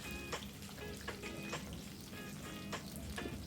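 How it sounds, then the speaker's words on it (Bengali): Chicken pakora deep-fries in oil with a close, continuous bubbling sizzle, punctuated by repeated crackles and light stirring taps, with no talking. "ভালো করে একে ভেজে নিচ্ছি।"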